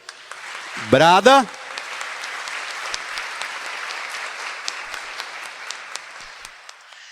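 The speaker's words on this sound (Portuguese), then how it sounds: "Dê uma salva de palmas para Ele" Applause from a church congregation during a Sunday Mass homily, a steady wash of clapping that carries on for several seconds, with a brief spoken word near the start.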